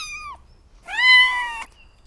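Two short, high kitten meows ring out close and clear, the second longer and louder than the first, as the young kittens call for their mother cat with no voices around them.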